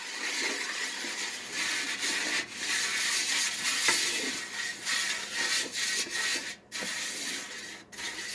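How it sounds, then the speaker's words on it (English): Oil gets rubbed around a pizza pan by hand, a close, continuous swishing and rubbing with brief pauses between strokes. "Just enough so then that you can just rub it all around"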